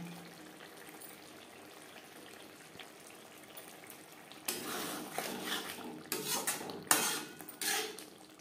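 Pakal (eel) fish curry is stirred in a pot. Faint quiet kitchen ambience gives way to louder metallic scraping and clanking of a spoon against the pot in irregular bursts.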